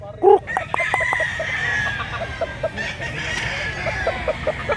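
Roosters crow in long overlapping calls while a hen clucks in short, rhythmic bursts nearby, with a sharp squawk near the start.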